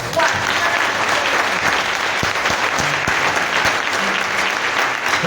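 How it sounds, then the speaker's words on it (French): A church congregation claps loudly and continuously during worship. The applause is a dense, sustained wash that lasts throughout, with no pauses. "Il faut acclamer ça."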